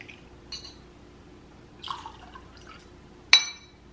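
Maker's Mark 46 bourbon poured into a glass at home, a few soft liquid trickles and drips followed by one sharp clink of glass near the end, close and fairly quiet in a still room.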